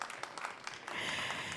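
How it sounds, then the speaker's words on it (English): An audience claps at a poetry panel event, scattered individual claps at first swelling into fuller, continuous applause, moderately faint and a little distant. "keep clapping, keep clapping, keep clapping"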